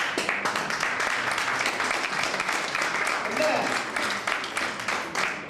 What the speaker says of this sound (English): And you should applaud them also.